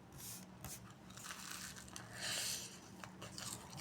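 Someone bites into a crunchy classic wrap with warm tortilla, lettuce, meat, cheese and sauce, close-up crisp crunching and crinkling as they chew, no talk.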